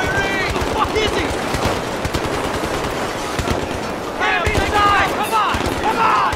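Rapid automatic gunfire and sharp single shots in the Battlefield 3 combat mission, dense and loud throughout, with shouting voices breaking in over the firing toward the end.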